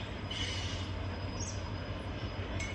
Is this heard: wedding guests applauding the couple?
no